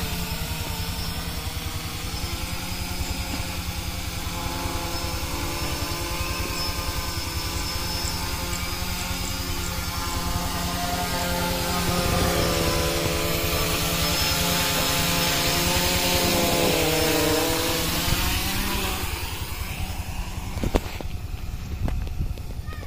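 Small Arduino-controlled drone propellers whine steadily, a loud buzzing hum that rises in pitch midway and then cuts off near the end, close by with no talk.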